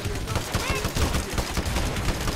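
Pistol fire in Hitman: Absolution comes as a rapid string of loud, close shots in quick succession, each a sharp crack, with a voice speaking over the gunfire.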